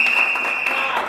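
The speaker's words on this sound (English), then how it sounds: "Can we give a round of applause to our political leader, the Honorable Kamala Prasad Bisesa, for" An audience gives a brief burst of applause for a political leader at a UNC party event, the clapping steady and fairly loud, with a thin, constant whine running over it.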